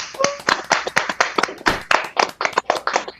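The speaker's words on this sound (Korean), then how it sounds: "큰 박수 부탁드리겠습니다" Clapping at a product lecture comes as a run of distinct, sharp hand claps from a small audience or a few people, close and uneven, about fifteen claps with no speech.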